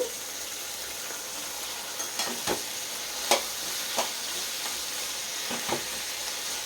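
Thinly sliced onions fry in a pan with a steady, soft sizzle, broken by a few sharp clicks and scrapes of stirring at irregular intervals; no voices.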